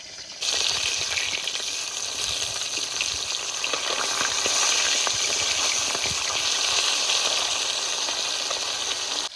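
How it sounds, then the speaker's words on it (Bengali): Thin folui fish fry in hot oil in a pan, a loud, steady close sizzle hissing without a break. "ফলই মাছটা একটু পাতলা হয় দেখতে দেখতে ভাজা হয়ে যায় এবার উল্টিয়ে নেবো"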